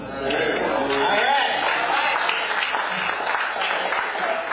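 An audience at a candidates forum applauds steadily at moderate volume for several seconds, then the clapping tapers slightly.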